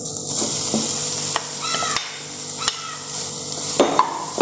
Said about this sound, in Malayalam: നല്ലോണം മിക്സാക്കി എടുക്കാം.